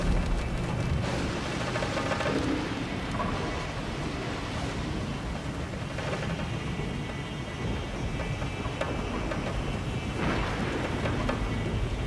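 Heavy rain and rumbling thunder from a storm at sea around a boat, a dense continuous roar with no voices.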